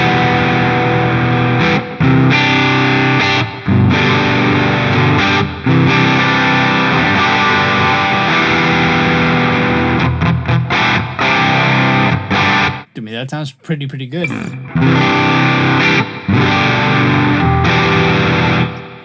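A high-gain distorted electric guitar plays through the AmpliTube 5 amp simulator with reverb, loud sustained chords with short breaks, and someone speaks briefly partway through.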